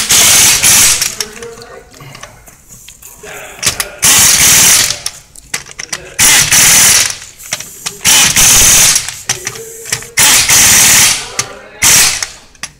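An impact wrench with torque sticks hammers wheel lug nuts tight in loud, rattling bursts of a second or two each, separated by short pauses and handling noise, alone without talk.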